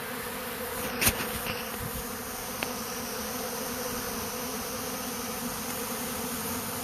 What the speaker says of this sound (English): So this is a swarm of bees.